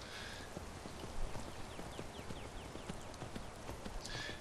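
A horse in the Skyrim video game trots with a steady, rapid clip-clop of hooves, evenly spaced over a soft continuous background, moderately quiet and unaccompanied by talk.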